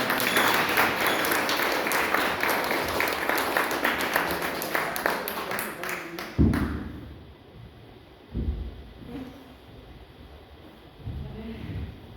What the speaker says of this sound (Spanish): Nuevamente, fuertes los aplausos para Mónica, por favor.